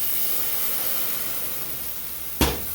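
Steady loud sizzling hiss as cold milk hits a hot roux in a pan, continuous throughout with one sharp clink or bump near the end.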